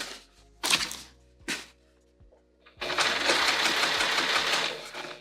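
A sewing machine stitching a tote bag seam, with two short bursts of stitching and a few mechanical clunks, then a longer, steady run of rapid stitching close up.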